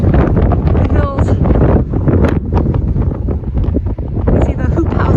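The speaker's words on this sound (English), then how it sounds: "It's windy." Strong gusts buffet the microphone on an open hilltop, a constant roaring rumble that persists from start to finish while a person talks over it.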